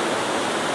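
The Wilson River flows in mid-February, a dense, even rush of water that fills the air with continuous broadband hiss and no pauses or voices.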